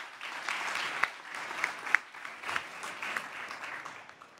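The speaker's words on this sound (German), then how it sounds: "Ich glaube, das hat einen Applaus verdient." Modest applause from a small audience at a masterclass session, a light patter of many hands with a few sharper individual claps standing out, fading toward the end.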